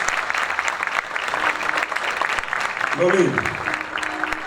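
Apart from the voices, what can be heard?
applause for the governor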